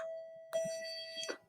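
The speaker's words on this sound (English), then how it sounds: "pardon the bell" A school bell rings near a chemistry classroom as one sustained, steady electronic tone with a sharper attack partway through, heard alone at moderate volume.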